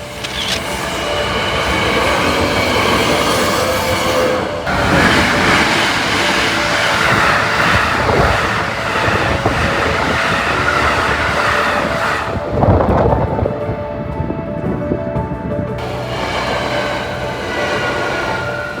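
Hankyu 8300 series electric train pulling out on the Kyoto line, a loud, sustained rumble of motors and wheels on rail, with a brief surge and a quieter gap near the end before the roar returns.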